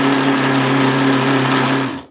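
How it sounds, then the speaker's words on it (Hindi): An electric mixer grinder runs in one short pulse, a loud close steady high-pitched motor whine that holds for about two seconds, then cuts off and winds down quickly. "थोड़ा 2-3 बार पल्स में ग्राइंड करके फिर हम कंटिन्यू उसको ग्राइंड कर लेंगे।"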